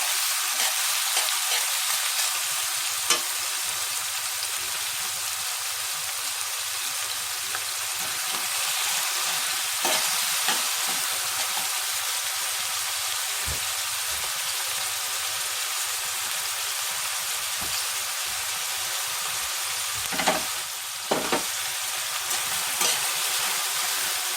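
Chopped onions and peppers fry and sizzle in a pan, a dense, bright, continuous hiss that stays steady throughout, with a few brief stirring scrapes and no voices.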